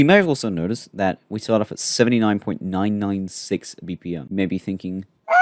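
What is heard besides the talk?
No everyday noises stand out.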